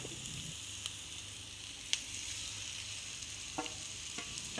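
Thick chicken gravy with a little added water sizzles faintly in a pan as a utensil stirs it, with quiet scrapes and a few soft clinks over a low, steady simmer, no voices.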